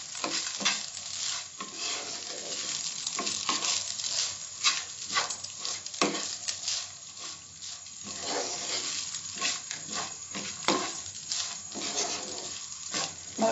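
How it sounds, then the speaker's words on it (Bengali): Rice with salt being stirred and mixed in a pan on a gas stove, a steady run of close scraping and soft sizzling with a rhythmic pattering texture, no voices. "ভালো করে মিশিয়ে নেব।"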